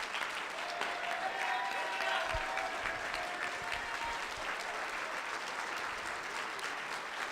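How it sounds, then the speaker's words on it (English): Sustained applause from a debate audience, a dense wash of clapping that stays even throughout at moderate distance. "Let's give them both a big round of applause"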